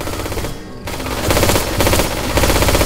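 Rapid automatic gunfire from a Left 4 Dead 2 match, loud bursts of weapon fire with a brief lull before dense, sustained shooting resumes.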